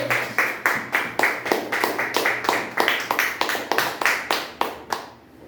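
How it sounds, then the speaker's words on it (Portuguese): Church congregation applauding with a steady rhythm of distinct claps, roughly two per second, close and fairly loud, slowing toward the end and stopping abruptly near the finish. "Senta e pode aplaudir o Senhor,"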